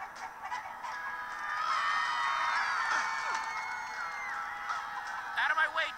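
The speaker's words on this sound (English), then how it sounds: "Out of my way, chickens!" Honking, goose-like fowl calls from the chickens in the video game Minecraft Story Mode, a dense layered chorus running through the whole stretch and rising near the end, with a voice briefly audible underneath.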